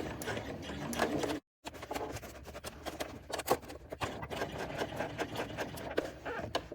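A sewing machine back stitches a seam on a small fabric bucket bag, a close, steady mechanical chatter with one brief stop near the start.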